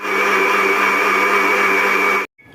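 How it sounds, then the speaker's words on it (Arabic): Electric blender whirring steadily as it mixes eggs, sugar, milk, vanilla and milk powder for a cake batter, loud and close with a constant pitch, then cutting off abruptly near the end. "هلا رح اضربهم كلهم سوا على الخلاط."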